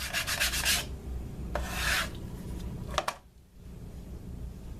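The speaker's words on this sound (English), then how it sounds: "Got some 150 grit on a sanding block" Short, raspy back-and-forth strokes of a 150-grit sanding block against leather edges, three bursts of close, dry scraping separated by pauses, with quiet room noise between.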